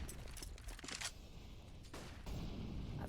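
Quiet, scattered gunfire bursts from a Counter-Strike match on the Inferno map, distant and faint under low game ambience.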